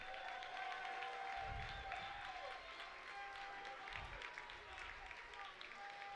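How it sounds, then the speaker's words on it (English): Crowd applause and cheering after a three-round K-Series kickboxing bout, a steady wash of clapping with a constant tone and two low thumps beneath it. "a round of applause for 2 great fighters and 1 great fight"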